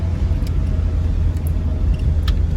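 A car driving along tight, winding mountain roads, heard as a loud, low, steady road rumble from inside the vehicle with a few faint high clicks.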